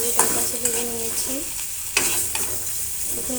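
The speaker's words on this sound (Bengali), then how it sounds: "হিঁচড়টাও খুব সুন্দর করে ভাজা হয়ে গেছে" Pieces of jackfruit (hichor) fry in hot oil in a kitchen pan, giving a soft continuous sizzle broken by a few sharp clinks and scrapes of a spatula stirring.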